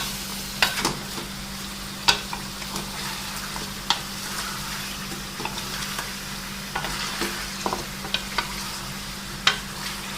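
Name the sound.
chicken karahi frying in oil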